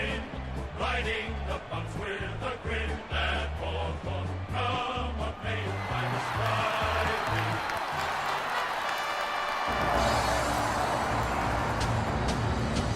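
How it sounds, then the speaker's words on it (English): Crowd noise swells loudly as players run onto the ground before a Port Adelaide grand final in the AFL Evolution video game, a steady roar of cheering mixed with rhythmic music beats that thickens toward the end. "Port Adelaide lifted by the noise of the crowd as they make their way onto the ground"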